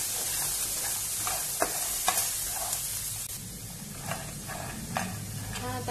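Chickpeas roasting in a pan for a masala chana snack, with a steady dry sizzle and a spoon scraping and stirring them in repeated strokes, close up and with no talk.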